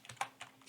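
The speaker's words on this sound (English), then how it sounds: "we're just going to be pressing a key" A few crisp computer keyboard key presses, four or so light clicks in quick succession, close and fairly quiet in a still room.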